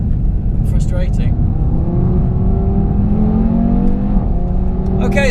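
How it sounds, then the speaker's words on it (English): Audi TT RS on a race track, its engine droning and rising through revs with a whistling turbo spooling in the cabin, heard steadily beneath someone talking. "It spools up so nicely upon downshifts."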